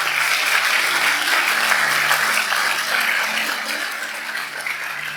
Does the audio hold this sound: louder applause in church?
yes